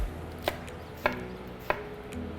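A knife chops celery on a cutting board in three sharp, evenly spaced thuds about half a second apart, close and crisp, over a faint background hum with no talking.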